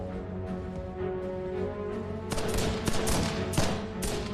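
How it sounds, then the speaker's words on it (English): Soldiers fire guns down the length of a passageway, loud bursts of gunfire starting partway through and overlapping in a rapid fusillade over a steady background drone. "Fire their guns down its length."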